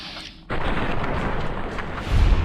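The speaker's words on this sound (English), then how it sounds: "But I'm gonna shoot him in the head." A gunshot to an enemy's head in Fallout: New Vegas on Hardcore Mode, a sharp blast after a brief lull that leaves a loud, rumbling tail lasting a couple of seconds.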